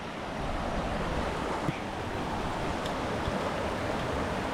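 Steady broadband rush of river water flowing continuously along a hiking trail near the ancient city of Trebenna, loud and close with a wind-like wash and no talking.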